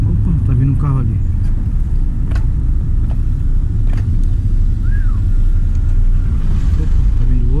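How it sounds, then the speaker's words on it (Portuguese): A car passes along a street in Rio de Janeiro, its steady engine rumble loud and close throughout, with people talking over it. "Opa, tá vindo um carro ali."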